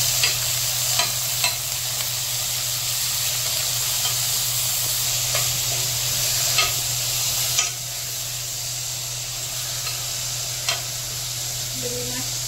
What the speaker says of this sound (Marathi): पालक मातशी शिजपाक जाय.